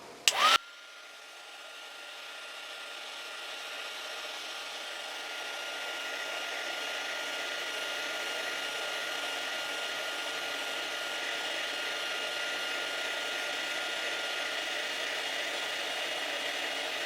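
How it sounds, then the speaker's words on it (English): An electric heat tool blows hot air to melt embossing powder on a handmade card, a steady whooshing fan hum that starts after a click and runs continuously, close and moderately loud with no talking. "And now I'll warm it up with my heat tool."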